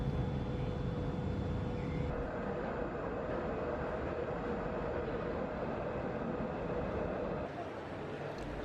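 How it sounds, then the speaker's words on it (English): A Dubai tram running toward Dubai Marina Mall, a steady broadband rumble and hiss of the rail car rolling along at an even level throughout, with a faint tonal whine above and a slight drop near the end. "The tram, on the other hand, was on time, and I used it to connect to the Dubai Marina Mall."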